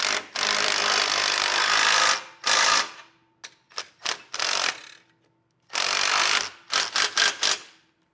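A ratchet with a 9/16 socket snugs down hardware while fitting a Blue Ox base plate kit to a 2021 Jeep Grand Cherokee: close, loud bursts of rapid clicking, long runs broken by short choppy strokes.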